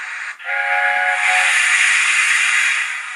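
A steam train whistle blows long and loud, a steady hissing shriek with strong tonal lines that holds for about three seconds.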